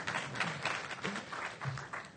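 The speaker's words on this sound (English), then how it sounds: "I love the tepid applause" Sparse, tepid applause from a conference audience, a few scattered claps that come out faint and distant in a large hall and fade within a couple of seconds.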